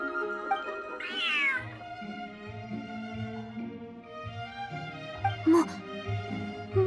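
Large cat meowing in the Genshin Impact video game, several meows over soft background music, with a voice speaking between the calls.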